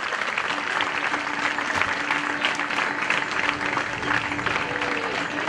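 An audience applauds at a function welcoming former President Ram Nath Kovind as chief guest at a children's home in Kumbharvalan, a continuous dense wash of clapping at a steady loudness, with no voices.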